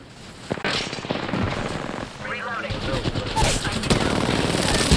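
Rapid automatic gunfire from the video game Apex Legends crackles in loud bursts that build and intensify, with voices talking over the shooting.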